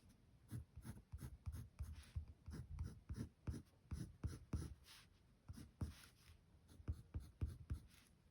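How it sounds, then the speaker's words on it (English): A colour pencil scratches across paper in quick rhythmic strokes, close and quiet, about a dozen short bursts with brief pauses, no talk. "And then I might go in with a little bit of this colour pencil, make this stronger."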